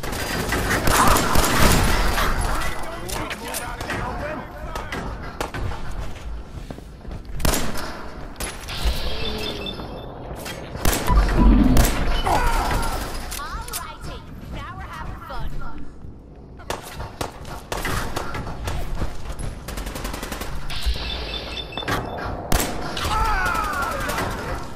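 Sustained gunfire in the video game Fallout 4 fills the scene, dense overlapping shots and bursts with heavy booming impacts, continuing loud almost throughout with brief lulls.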